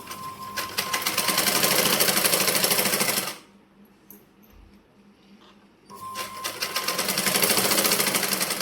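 A sewing machine stitches a sleeve onto a blouse in two loud, steady bursts of rapid needle chatter, separated by a pause of about two seconds where the motor stops.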